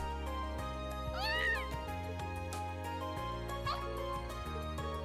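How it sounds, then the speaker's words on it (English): A cat meows twice in the Trails of Cold Steel video game, high mewing calls over steady background music with light chimes. "Oh yeah, this is the cat."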